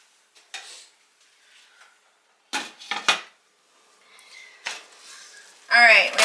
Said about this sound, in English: And then I'm going to put the lid on and let this cook for just a little bit.